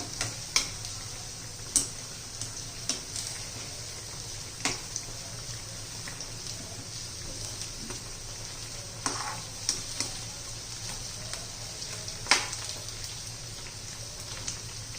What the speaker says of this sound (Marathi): आपण सगळ्या वड्या अशा तळून उलट्या करून घेऊया